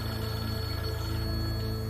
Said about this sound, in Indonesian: Tak lama terdengar suara dering telepon kembali.